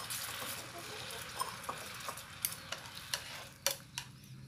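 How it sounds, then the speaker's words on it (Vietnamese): Sauce added to a hot pan of vegetarian tofu-skin sausage, giving a soft, steady sizzle with scattered small pops and crackles, faint and even, and no talking. "Bây giờ mình sẽ bỏ cái phần nước sốt này vô đây ha."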